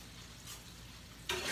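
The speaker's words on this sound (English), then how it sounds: "frying fish is very simple" Catfish fries in hot oil with a steady, close, crackling sizzle that swells louder near the end; no voices.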